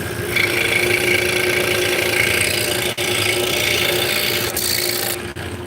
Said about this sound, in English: So she's currently sanding.